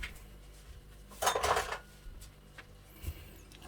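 A spoon stirs red curry paste in a metal pot of coconut-milk curry with cassia leaves and pork, giving a short burst of close scraping clinks, then a few softer knocks.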